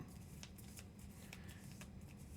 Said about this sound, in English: I'm closing my eyes as I'm shuffling these cards up